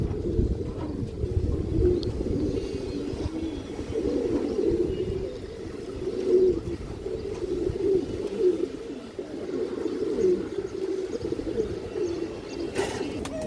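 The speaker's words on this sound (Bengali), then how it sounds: "এই যে দেখেন কৌতরটা দেখেন এটা মাদি কৌতরটা" A silver bezi pigeon hen and nearby birds coo in a continuous low, throaty murmur of repeated phrases, close and moderately loud, with no speech.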